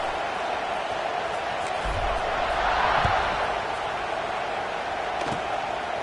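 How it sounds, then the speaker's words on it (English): Stadium crowd in College Football 26 keeps up a steady, dense roar throughout, with a couple of dull thumps partway through and no clear voices on top. "this crowd is buzzing after that last score"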